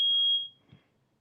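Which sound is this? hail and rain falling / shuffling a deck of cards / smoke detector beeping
smoke detector beeping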